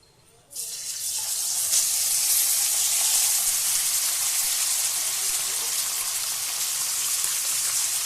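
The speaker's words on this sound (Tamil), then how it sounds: "எண்ணெய் கொஞ்சம் சூடான உடனே சிக்கனை போட்டுருக்கேன்." Chicken pieces hit hot oil in a kadai and a loud, steady sizzle bursts up after a brief quiet start, holding a dense crackling hiss throughout.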